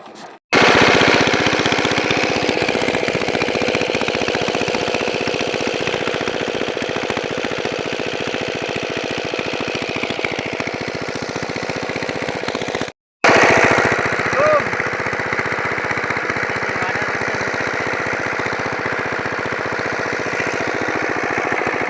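A repaired Chinese diesel oil engine runs close and loud with a steady, rapid knocking chug, cutting out for an instant partway through before carrying on at the same even pace.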